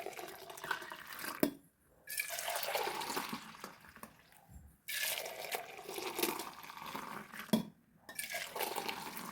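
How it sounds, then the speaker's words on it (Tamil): Warm milk mixed with curd is poured back and forth between vessels in four long splashing streams, each a steady rushing pour that cuts off abruptly before the next, close and fairly loud. "இதில் நல்லா மிக்ஸ் பண்ணி நல்ல ஒரு 4 ஆற்று ஆற்றிடணும்"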